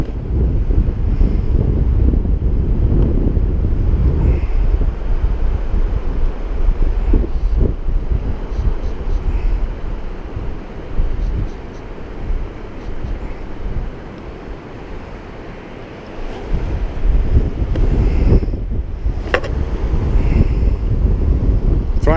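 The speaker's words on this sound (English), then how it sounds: "It is windy." Strong wind buffets the microphone with a constant roaring rush, swelling and easing slightly, with a hint of water from the Firehole River in Yellowstone in the background.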